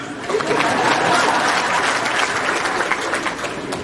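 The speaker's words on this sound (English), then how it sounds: "go ahead, clap." An audience at a Rotary Club gathering in Uganda bursts into loud, dense clapping that swells quickly and holds steady for several seconds.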